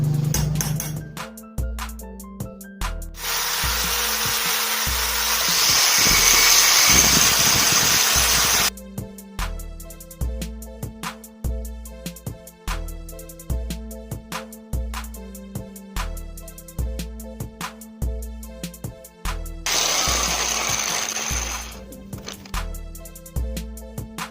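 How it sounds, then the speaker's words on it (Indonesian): An angle grinder works on the crank pinion shaft of a Yamaha Mio Sporty while the engine turns it, giving two long, harsh grinding bursts over a steady, rhythmic, thumping engine pulse. "lalu sembari kita menggerinda di bagian as ini ya"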